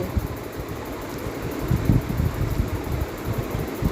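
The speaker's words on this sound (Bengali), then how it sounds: "এই পাশ দিয়ে কি হাওয়া আসছে" Wind blowing past a microphone beside a home cooking area, a steady low rumbling buffet with small gusts that stays moderately loud for the whole stretch and carries no voices.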